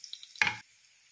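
Garlic drops into a hot pan for scrambled egg with malunggay leaves and sizzles in one sudden, close burst of frying lasting about a fifth of a second, then settles to a faint, steady hiss.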